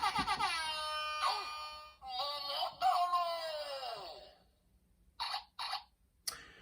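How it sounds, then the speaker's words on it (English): An electronic warbling, wavering tone plays loudly with pitch sweeps from a DX DonBlaster toy, then cuts out, followed by a few short bursts of disc-scratching noise. "what you're hearing is a disc scratching sound"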